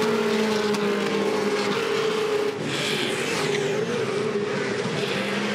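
V8 Supercars racing out of the final corner at the 2014 Adelaide 500 street circuit, a loud, sustained engine roar holding a steady high note with a brief dip mid-way, close by and without voices.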